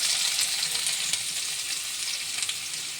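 Chopped onions sizzle steadily in hot oil with cumin seeds, a continuous close hiss with small crackles and no talk over it.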